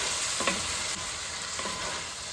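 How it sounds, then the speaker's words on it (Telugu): Tomatoes frying with ginger in a pan for Andhra fish pulusu, a steady close sizzle with a few scraping stirs of a spoon against the pan. "టమాటాలు వేసేసి టమాటాలు కూడా కొంచెం బ్రౌన్గా వచ్చిందాక వేయించితే"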